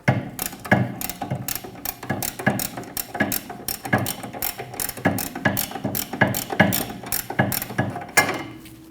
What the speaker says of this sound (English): Using a 21mm wrench, we're going to crack the bolt free on the bottom of our shock.